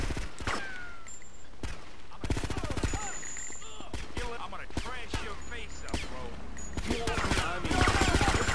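Gunfire erupts in Grand Theft Auto Vice City, repeated bursts of shots and scattered single cracks over several seconds, mixed with game sounds and a person talking.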